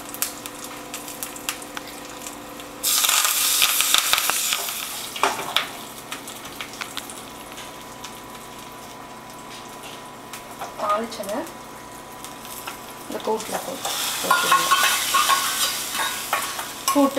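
Onion, crushed garlic and curry leaves sizzle and crackle in a hot pan, with bursts of stirring and scraping that swell and fade over steady frying.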